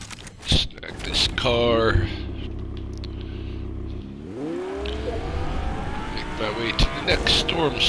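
A car in a video game revs and accelerates with rising engine tones. A loud whoosh and impact come before a steady drone, then the pitch climbs as it speeds off, with a person talking over parts.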